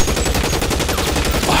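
Rapid gunfire from men shooting out of cover in the video game L.A. Noire, a dense, loud, continuous burst of shots filling the whole moment with no pause.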